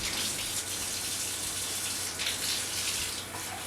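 Warm water runs steadily from a tap while pizza dough is being prepared, a continuous broadband splashing hiss that holds its level for the whole stretch with a few small surges.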